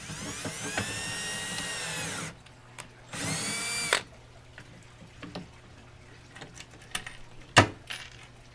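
A power drill drives long screws into a scrap-material cart in a fish room, two sustained whirring bursts early on, then quieter shop clatter and a few sharp knocks.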